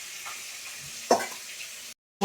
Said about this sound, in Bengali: এখানে মাছগুলো ভাজছি